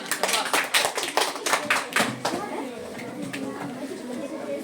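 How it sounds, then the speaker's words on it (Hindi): Classroom applause for a student, a burst of brisk clapping from a small group that thins out after a couple of seconds into scattered claps, with faint chatter underneath. "बहुत बढ़िया, जोरदार तालियां"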